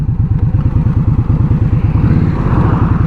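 Honda CBR motorcycle engine heard while riding, a loud close rapid pulsing rumble that holds steady with a slight rise near the end.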